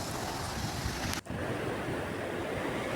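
Sea waves rolling in at Vellayil beach in Kozhikode, a steady broadband wash of surf with wind buffeting the microphone and a brief dip near the middle.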